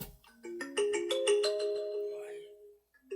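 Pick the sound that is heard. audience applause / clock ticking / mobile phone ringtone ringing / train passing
mobile phone ringtone ringing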